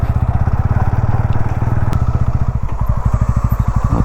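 A motorcycle labours up a steep, stony dirt track, its engine close and loud with a rapid, steady thumping pulse and occasional clatter of loose stones.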